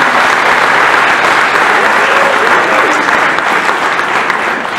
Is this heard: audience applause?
yes